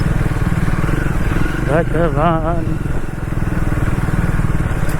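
Triumph Speed 400 motorcycle ridden over a rough, broken road, its engine drone loud and steady throughout under a man's brief exclamation.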